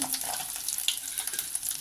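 Light frying of cashews in a pan on low heat, a busy crackle of small pops and bubbling with faint stirring, close up and steady, no voices.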